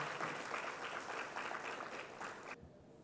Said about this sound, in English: With a hand of applause, help me welcome him.